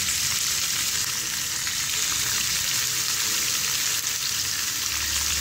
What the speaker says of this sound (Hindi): अब हम इसके अंदर टमाटर ऐड कर देंगे।